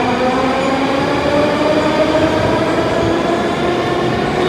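A metro train runs at a metro station, giving a loud, steady rumble with rolling wheel noise and a faint squeal that holds for the whole stretch.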